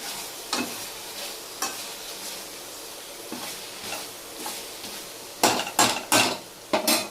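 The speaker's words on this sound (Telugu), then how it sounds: "ఇగో కారం వేస్తాను, కొంచెం పసుపు, ఇవన్నీ తిప్పుకోవాలండి" Curry stirred in a pan after chili powder and turmeric go in with the tomatoes, a steady low sizzle under scraping spoon strokes that build into a quick run of sharp clanks against the metal toward the end.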